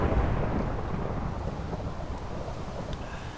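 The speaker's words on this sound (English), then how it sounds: "And it's raining. It's always raining. Why is it always raining?" Steady rain falling in the Minecraft video game with the Galacticraft mod, a continuous broadband hiss holding at an even, moderate level throughout with no voices over it.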